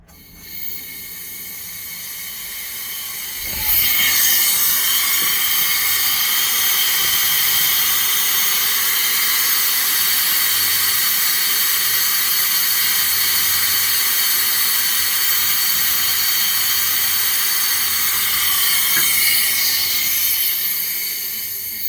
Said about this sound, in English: Now you're gonna repressurize the system again. Okay, all is connected. And now crank up the air.